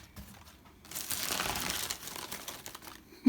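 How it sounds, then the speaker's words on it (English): Crinkly packaging filler is stuffed into a taped cardboard box for a chocolate-covered strawberry bouquet, producing close, dry crumpling and rustling that swells for about two seconds, then tapers off. "just fill the box with some filling right here."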